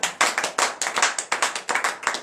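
A congregation at a morning prayer service claps in a quick, steady rhythm, sharp close hand claps repeating throughout with no talking.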